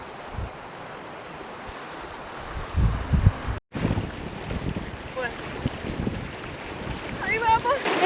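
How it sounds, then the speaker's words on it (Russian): Cold wind blows at 2700 metres altitude in Argentina, a broad rushing buffet across the microphone with gusts swelling and one abrupt cutoff, while faint voices and scattered sounds come through beneath it. "И уже ветер такой дует, ну, очень прохладный."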